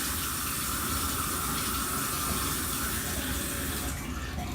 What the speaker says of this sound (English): You can run the water, but you can also fill up the sink with water.